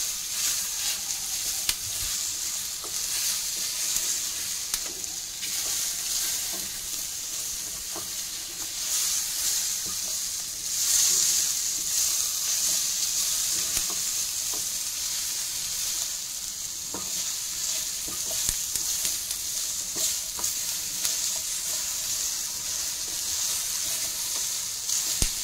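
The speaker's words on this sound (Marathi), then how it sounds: "हिरवे टोमॅटो थोडं भाजत आले आता अजून" Green tomatoes sizzle and fry steadily in a pan, a continuous close hiss with bright crackle and occasional stirring scrapes, no voices.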